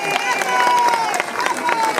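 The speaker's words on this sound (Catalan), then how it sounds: "Molt bé, un fort aplaudiment per aquesta fenòmena." Audience applauding and clapping at an honorary Xató-makers event in Vilanova i la Geltrú, a steady burst of crowd noise with voices talking over it.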